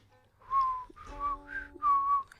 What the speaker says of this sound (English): My whistling is terrible.